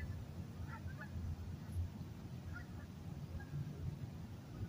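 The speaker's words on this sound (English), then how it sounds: "Sounds like we got geese going by." Geese honk in scattered calls as they fly past, faint over a steady low rumble of outdoor background noise.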